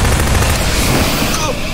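Gunfire in a video game comes as a dense, loud burst of overlapping shots and booms crowding the whole short moment.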